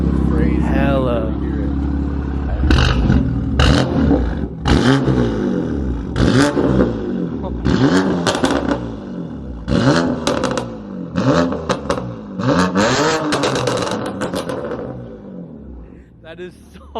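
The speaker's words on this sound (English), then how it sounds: "That turbo spool is crazy." A BMW F80 M3 with its S55 engine and a newly installed exhaust revs repeatedly, each loud rising blip followed by turbo spool and a deep rasp, with people talking excitedly over the bursts.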